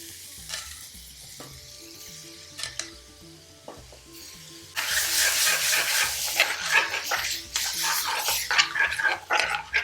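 A masala base for Chicken 65 sizzling and frying in a pan, with occasional stirring, quiet at first and then loud and crackling up close, with no talking.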